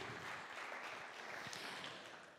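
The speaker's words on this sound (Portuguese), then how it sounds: "Dê uma salva de palmas a Jesus esta noite pela vitória que Ele alcançou na cruz" A church congregation claps together in sustained, dense applause that holds steady and then gradually fades, with no voices standing out.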